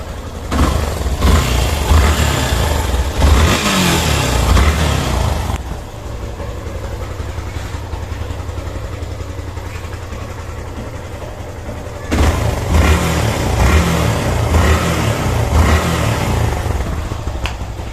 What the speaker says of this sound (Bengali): এখন হুন্ডার আওয়াজটা শুনে আসেন দেখেন কেমন হয় আওয়াজ কি চেঞ্জ হয়েছে কিনা দেখেন